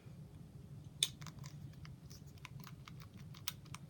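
Small plastic clicks from a neon yellow Nintendo Switch Joy-Con button, a quick uneven series of light taps, faint and close, with no talking.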